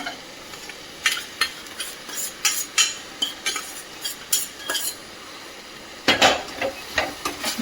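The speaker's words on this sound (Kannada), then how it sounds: "ಚೆನ್ನಾಗಿ ಮಿಕ್ಸ್ ಮಾಡೋಣ" A spoon stirs green gram curry (hesaru kalu palya) in a pan with repeated close scrapes and taps over a soft background sizzle, ending in a louder burst of clattering strokes.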